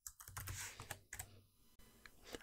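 Rapid typing on a computer keyboard while writing code, a steady close run of key clicks with brief gaps, no voices.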